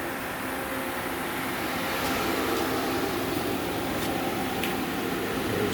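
Okuma Crown L1060 CNC lathe spinning at 1200 RPM, a steady, fairly quiet mechanical hum and hiss with faint ticks, constant throughout with no talking.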